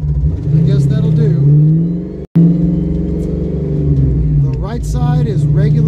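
A Ford Mustang without anti-lock brakes drives through a 65-to-0 brake test, its engine note rumbling and shifting in pitch while a voice talks over it.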